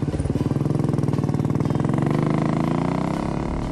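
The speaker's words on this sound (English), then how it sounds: "the engine idles cleanly and has good bottom end pull" Royal Enfield Bullet motorcycle engine running steadily up close, a loud, even single-cylinder thump with a rising pitch, no voices over it.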